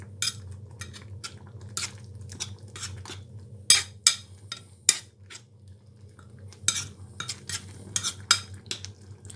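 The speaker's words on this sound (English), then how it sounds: "So this is the final part of the mash. So let me stir it in." A spoon stirs a Basella mash with lentils in a pot, making irregular clinks and scrapes against the metal over a low steady hum, close and moderately quiet, with no voices.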